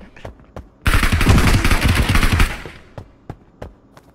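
Gunfire from a Webley revolver in a shooter video game: a dense, loud two-second burst of overlapping shots, followed by several sharp isolated cracks spaced apart afterward.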